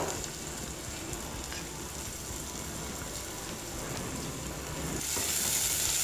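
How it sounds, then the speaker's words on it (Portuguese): Garlic cloves fry in a pan, giving a steady, close sizzle with a dense crackle that grows brighter and louder over the last second. "Vou colocar os dentes de alho aqui. Já dá uma fritadinha."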